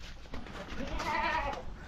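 A goat bleats in a wavering call over steady outdoor background noise, fairly close.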